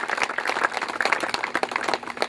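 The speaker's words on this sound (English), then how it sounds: "Big round of applause once again." Audience applause at a speedway hall of fame induction, dense clapping from a crowd, close and fairly loud for a short burst.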